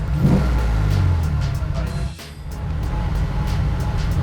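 A fake Lamborghini replica car pulls away gently, its engine droning low and steady close by, with a faint rise as it gets moving. A voice is briefly heard.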